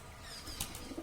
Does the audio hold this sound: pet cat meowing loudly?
no